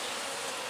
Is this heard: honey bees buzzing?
yes